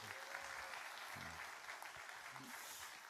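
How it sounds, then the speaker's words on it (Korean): Congregation applauding during a Sunday church service in Cheongju, a faint, steady patter of many hands clapping throughout, with brief low murmurs of voices mixed in. "우리 수고하신 모든 분들 다시 한번 박수 쳐주십시오"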